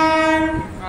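The horn of a train arriving at Rajahmundry blares loudly and close for under a second, a rich, sustained tone that fades slightly toward the end.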